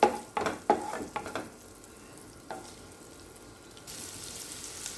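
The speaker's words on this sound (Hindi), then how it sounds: "लहसुन, हरी मिर्च और अदरक के पीसेस ऐड कर देना है। इसे हम हल्का सा फ्राई कर लेंगे।" Garlic, green chili and ginger pieces land in a hot pan with a burst of sizzling and a few sharp stirring clatters, then fade to a quieter hiss before a broader rush of frying noise.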